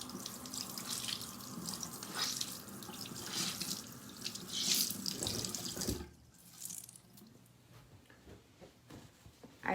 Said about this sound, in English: I need to wet my sponge